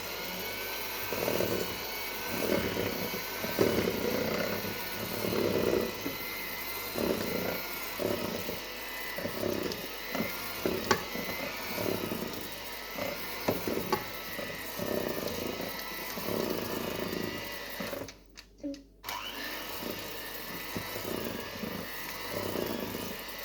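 An electric mixer beats brownie batter with added cocoa powder, giving a continuous droning motor hum with rhythmic pulsing and a brief drop out near the end.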